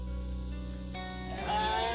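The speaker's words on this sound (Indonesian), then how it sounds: "Kambing banyak sekali di sini ya." Goats bleat in Kampung Galemong, a rural village near Cilengkrang in Sumedang. A steady low hum of surroundings is broken by a single nasal, wavering bleat close by, fairly loud, lasting about half a second near the end.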